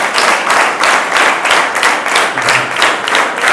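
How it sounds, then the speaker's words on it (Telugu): Students in a classroom applaud their teachers, a dense, steady burst of many hands clapping together that stays loud throughout with no talk over it. "So can you all clap for all your teachers once."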